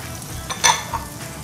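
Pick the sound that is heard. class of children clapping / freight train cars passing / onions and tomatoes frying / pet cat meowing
onions and tomatoes frying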